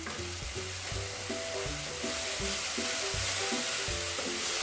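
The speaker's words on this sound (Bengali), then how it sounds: "ভালো করে কষিয়ে নেব" Drumsticks and spices fry and get stirred in a pan, a steady close sizzle with rhythmic scraping strokes of a spoon, no talking.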